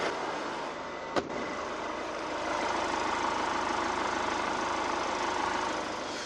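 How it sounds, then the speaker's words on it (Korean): A diesel car engine idles steadily with a smooth, even hum and low rumble, heard close up with the bonnet closed, and a single sharp click sounds early on. "디젤 엔진치고 굉장히 부드러운 엔진 소음을 기대하실 수가 있는 차량입니다"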